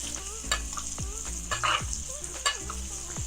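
A N.Y. ribeye steak sears in a hot cast iron pan, with a steady close sizzle broken by repeated sharp scrapes and clanks at roughly half-second intervals, with no talk.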